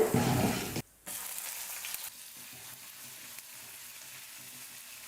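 Chopped green chilies fry with urad dal and chana dal in a pan, a brief loud sizzle at first that cuts out, then a quieter crackling fry continues alone.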